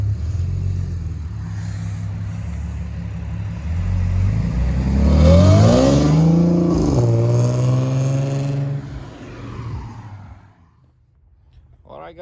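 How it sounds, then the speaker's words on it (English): An Audi S4 B8 with a 3-litre supercharged V6 pulls away, engine revving up through rising gear pulls, loudest mid-way, then fading into the distance as a voice speaks briefly over it. "that's the S4 B8 3-litre supercharged gone"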